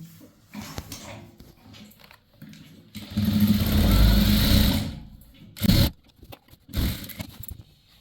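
A sewing machine stitches along the folded edge of a chudithar top in a bursts of motor whir, one long run and two short runs separated by quiet handling of the fabric.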